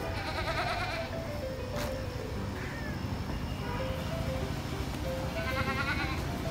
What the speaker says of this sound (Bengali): আর দেখা যাচ্ছে পাঠা